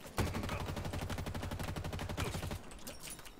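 Sustained rapid automatic gunfire in Halo Infinite, a capture-the-flag match on the Bazaar map, dense repeating shots close and loud for about two and a half seconds before tapering into scattered game effects.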